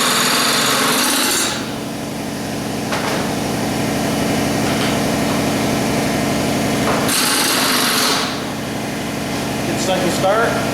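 A CNC milling machine machines a part from loaded stock, giving a steady broadband whir and hum with louder bursts of cutting or coolant spray near the start and again toward the end.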